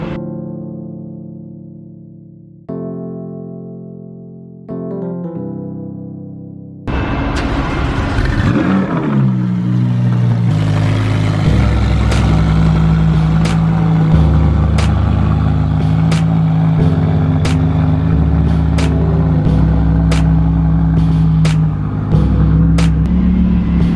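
A Lamborghini exotic sports car being driven off a transport trailer, its engine loud and close with a steady rumbling idle and low revving, preceded by a few seconds of descending synthetic tones.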